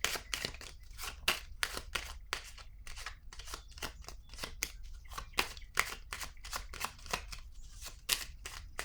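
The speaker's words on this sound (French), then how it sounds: "Je vais piger une autre carte ici." Tarot cards are shuffled and drawn by hand. A close, crisp rhythm of papery slaps and riffles repeats steadily throughout, with no talking.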